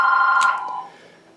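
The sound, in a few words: telephone ringing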